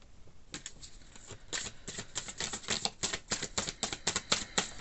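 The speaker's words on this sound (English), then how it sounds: "I don't know why I'm still shuffling" Tarot cards being shuffled close up, a quiet run of quick riffling bursts that grow louder and denser, with no talking.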